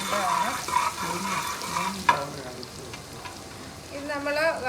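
Beef pieces fry in a generous amount of hot oil for hotel-style beef fry, with a steady sizzle and stirring close by while a person talks over it.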